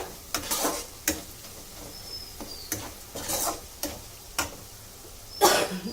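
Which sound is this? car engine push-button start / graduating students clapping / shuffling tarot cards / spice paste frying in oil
spice paste frying in oil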